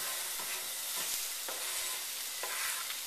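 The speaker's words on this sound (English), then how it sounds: "you don't need that much oil or fat to get a good caramelizing sound like that" Food caramelizing in a pan with only a little oil or fat, a steady hissing sizzle broken by a few soft stirring scrapes, fairly quiet and close, with no talking.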